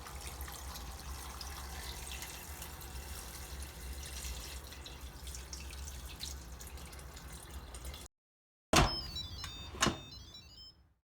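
A steady stream of water pours over lamb meat in a pot for several seconds, then stops, followed by a few metallic clinks.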